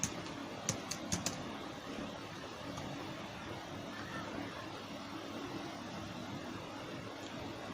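A name being typed on a computer keyboard, a few light key clicks near the start and another later, faint and close against a steady background hiss, with no talking.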